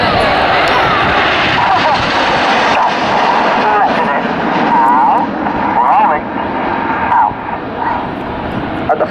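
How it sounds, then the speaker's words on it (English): A Eurofighter Typhoon jet trailing red and white smoke roars past at an air show, a loud sustained engine rumble that swells and fades while a commentator talks over it. "Coming in from the left with some red and white smoke, this is Typhoon."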